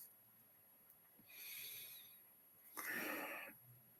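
A single deep breath taken during a guided spiritual meditation: a soft airy inhale followed by a fuller, louder exhale, close and unhurried, with no talking over it.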